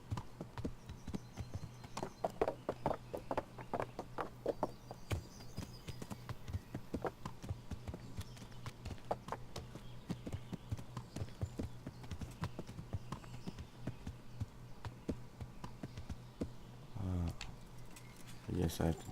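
A horse's hooves clop steadily on ground in the medieval video game Kingdom Come: Deliverance. The quick, regular footfalls run throughout, and someone talks over them at times.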